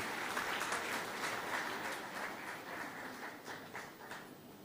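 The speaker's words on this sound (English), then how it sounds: "Can we have a huge round of applause?" Audience applause fills an awards ceremony hall at an Indian chemicals industry event, a steady, dense wash of many hands clapping that holds for several seconds and eases slightly toward the end.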